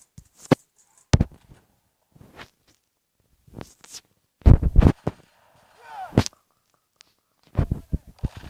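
Gunshots in a video game fight crack out as sharp, isolated bangs at irregular intervals, some in quick pairs, loud against near silence, with brief speech between them.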